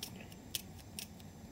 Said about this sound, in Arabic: نكمل نقطع الثوم تاعي بهذه الطريقه